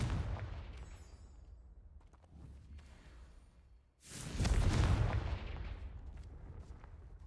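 A Confringo fire spell from Hogwarts Legacy bursts with a loud, booming blast that swells suddenly after a quieter stretch of scattered game sounds, then rumbles and fades slowly.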